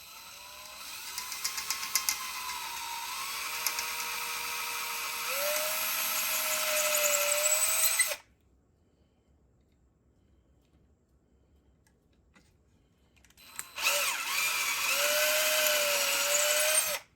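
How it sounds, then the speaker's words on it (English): A power drill whines in two long bursts drilling shallow holes in an Arcade1Up cabinet for a marquee kit, its pitch rising as it bites in, with a silent pause between them. "using a drill bit that fits the old hole, we're going to drill in the new holes very shallow"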